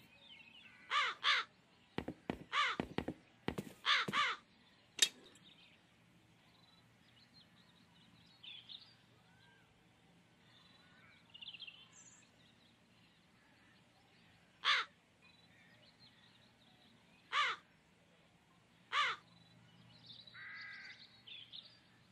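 Several loud crow caws ring out in short bursts, a cluster of rapid calls early on followed by spaced single caws, over a quiet outdoor backdrop in the fantasy adventure game The Dark Eye: Chains of Satinav.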